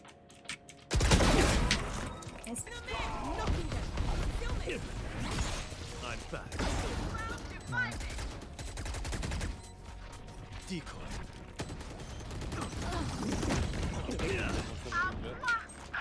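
Gunfire and weapon handling ring out during a round of a tactical shooter video game, with sharp shots and mechanical clicks under a player's ongoing talk.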